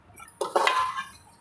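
Spoon clinks and scrapes in a pan as coriander and dried coconut powders are stirred into ivy gourd fry, a short burst of clattering close by with no talk.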